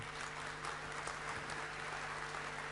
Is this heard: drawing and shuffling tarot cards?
no